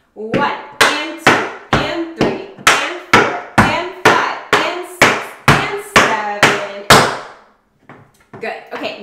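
Tap shoes strike a hard floor in crisp, loud, evenly spaced beats as beginner steps from a paradiddle are practiced to an Amy Winehouse Rehab routine, each tap ringing briefly before a final pause and a few softer hits.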